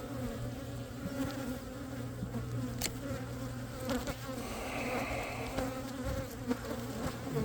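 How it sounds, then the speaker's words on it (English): Honey bees swarm and buzz around an opened hive during a beekeeping inspection, a dense, steady droning hum close by that fills the whole stretch with no talking. "The bees are everywhere."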